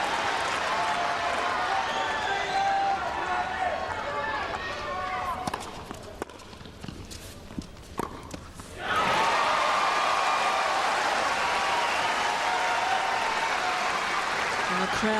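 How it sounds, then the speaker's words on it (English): The crowd at a 2006 Australian Open women's quarter-final between Hingis and Clijsters cheers and applauds loudly, quiets to scattered sounds for a few seconds, then erupts again at full volume. A commentator talks over the noise. "And the crowd really encouraging Hingis"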